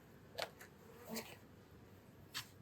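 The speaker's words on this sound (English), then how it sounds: "There's a few more bees in here." Bees in a beehive super give a few soft, brief buzzing passes, faint against a quiet background.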